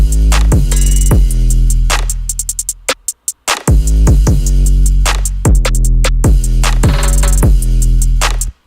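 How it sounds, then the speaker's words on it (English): A punchy drum loop from a beat, with heavy sustained bass kicks, crisp snare and hi-hat hits in a driving rhythm, a brief stuttering break midway, loud and upfront with no talking. "all together the drums sound like this"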